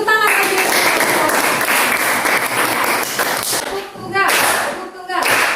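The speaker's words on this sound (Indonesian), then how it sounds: "kita beri tepuk tangan." A university classroom of teacher-training students applauds, producing dense, steady clapping that dips briefly and then swells again. Some voices are mixed in with the clapping.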